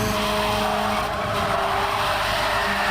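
Racing kart in a karting-cup video game sliding sideways into a wall: a loud, steady engine drone with tonal whine and a continuous skidding hiss lasting about three seconds, with no voices.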